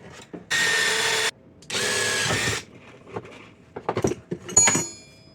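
A power drill bores pinholes through warhammer handle scales in two steady, loud bursts of about a second each, followed by lighter clicks and handling clatter on the workbench.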